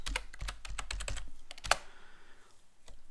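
Typing a password on a computer keyboard during a Linux kernel removal: a quick burst of close, crisp key clicks, ending in a louder keystroke and then near silence.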